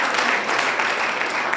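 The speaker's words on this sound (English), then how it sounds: "Please a round of applause for the chairman of section." Audience at a bar association week opening ceremony applauding steadily, a dense continuous wash of clapping at moderate volume throughout.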